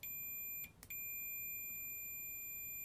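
A multimeter in continuity mode gives a steady high electronic beep while its two probes touch, with one brief dropout partway through, alone and fairly quiet.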